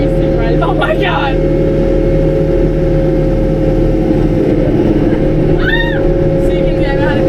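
A very large farm tractor's engine runs with a constant loud low drone and a steady hum throughout, while voices talk over it.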